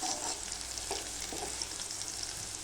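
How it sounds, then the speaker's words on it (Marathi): Chopped onion sizzles steadily in a hot pan while being sautéed until reddish-brown for a chigur leaf vegetable dish, with a few soft stirring scrapes over a constant close hiss. "कांदा आपला लाल करून घेऊपर्यंत परतून घेतला तिला छानपैकी"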